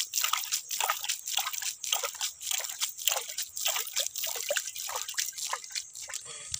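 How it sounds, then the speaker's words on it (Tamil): Water is sprinkled by hand over soil covering freshly sown native tomato seeds in a village plot, making repeated soft splashing and pattering bursts at a steady rhythm, close and alone. "இப்போ தண்ணி தெளிச்சிடுவோம்."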